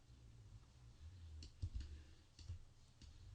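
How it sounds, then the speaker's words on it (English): A computer mouse clicks softly and sparsely while erasing a photo background with a small brush in image-editing software: about half a dozen faint, close clicks in small clusters over a low steady hum. "I'm just clicking along, getting rid of it."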